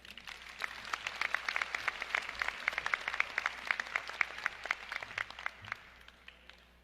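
An audience at a graduation ceremony breaks into sustained applause to welcome a speaker, a dense patter of many hands clapping at moderate distance that thins out toward the end.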